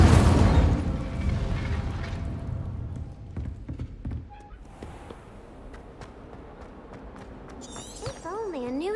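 A spell from Hogwarts Legacy goes off with a loud, deep whooshing burst that quickly fades into a rumble, followed by quieter ambient sounds and a distant voice.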